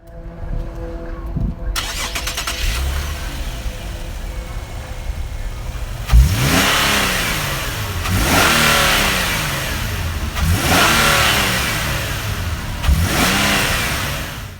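A Nissan 370Z's 3.7-liter VQ V6 starts up, settles to idle, then is revved several times in succession, each rev rising sharply and falling back, loud and close with no talk.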